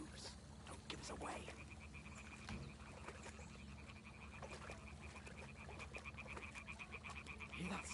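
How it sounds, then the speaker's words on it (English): Frogs croaking loudly in a marshy night scene in the game Kingdom Come: Deliverance 2, a dense chorus of rapid repeating croaks and trills over a low ambient hum, continuous and close. "The frogs are too fucking loud"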